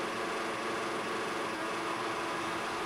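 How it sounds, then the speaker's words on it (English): A Formula 1 car engine in F1 2014 roars steadily at high revs during a race at Malaysia, a loud, continuous broadband whine with no pauses across the short stretch. "I'm revving my engine too much"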